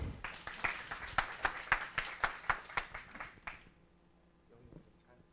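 A small tech-talk audience applauds to welcome a speaker with a few seconds of scattered clapping, then it fades out into near silence with faint room noise.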